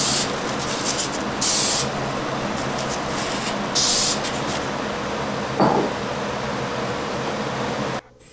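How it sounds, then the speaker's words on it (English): An aerosol can sprays lacquer onto the grayed tires of a Midge toy Corvette, giving close, loud hissing bursts of varying strength over a steady airy background, cutting off near the end. "Tires were a little grayed out, so I put a coat of lacquer on them."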